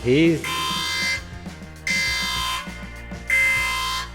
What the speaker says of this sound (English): that's the collision alarm.